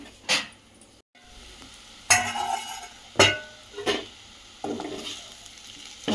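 Mango and dried fish curry cooks in a pan over a low flame, giving a soft steady bubbling sizzle broken by several sharp scrapes and clinks of a stirring utensil. No one speaks.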